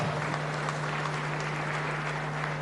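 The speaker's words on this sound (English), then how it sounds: "can we give them a bigger round of applause for what they did up here?" An audience at the Africa Climate Summit in Nairobi applauds a panel, a dense wash of clapping heard through a steady low electrical hum, even in level from start to finish.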